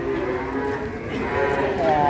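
A huge Pegon cow lets out a long, deep, resonant moo close by, with faint background murmur from a busy livestock setting.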